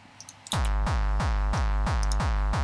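After a few faint ticks, a deep electronic kick drum thumps steadily, dry and punchy, each hit dropping quickly in pitch, loud and close.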